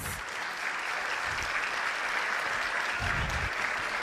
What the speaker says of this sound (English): I would love for you to stand up and just to give you a round of applause